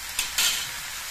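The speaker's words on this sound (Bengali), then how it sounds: "সব সবজি দিয়ে নেড়ে চেড়ে বেশ ভালো করে মিশিয়ে নিয়েছি" Winter vegetables and cheap amudi fish being stirred and fried together in a pan: a steady close hiss of sizzling with a couple of brief scraping stirs, no voices.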